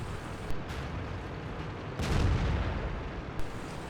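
Tank cannon shots in World of Tanks on the Swamp map, a VK 28.01 in play: booming blasts near 0.5, 2 and 3.4 seconds over a steady loud rumble of battle and engine noise, with no talk.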